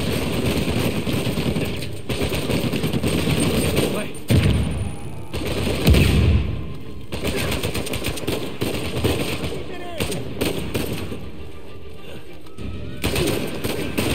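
Shotgun blasts and other gunfire in the action game Uncharted 4, dense bursts of shots and impacts running through most of the stretch with a player talking over them.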